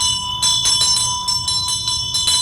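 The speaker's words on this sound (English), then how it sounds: "we have a bell and a dorji" Ritual bell rung in Mikkyo practice, a bright metallic ring with a sustained pure tone, struck repeatedly in a loose rhythm of several close strokes, each chime lingering, with no voices.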